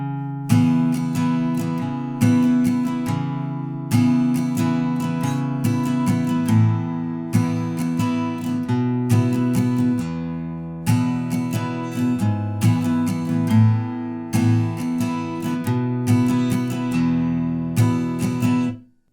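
An acoustic guitar plays the strummed chord break from a song in rhythmic bursts with short pauses, ringing clearly and alone before fading at the end.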